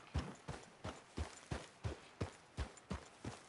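Horse hooves clip-clop in the Red Dead Redemption video game, an evenly spaced walking rhythm of about ten distinct hoof strikes, close and clear with nothing else over them.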